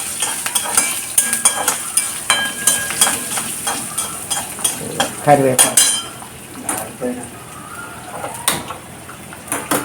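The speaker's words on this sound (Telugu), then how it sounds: "కరివేపాకు వేసుకున్నాక ఇది ఇలాగే వేగుతుంటే" Curry leaves and garlic fry in a pan for a Telugu gongura pulusu, a steady sizzle under repeated clinks and scrapes of a ladle stirring against metal.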